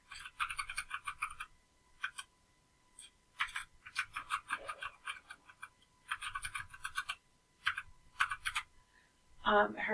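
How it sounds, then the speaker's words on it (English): Someone types a username on a computer keyboard in quick bursts of close, crisp key clicks with short pauses between them, ending in a louder clatter. "I'm going to type in her"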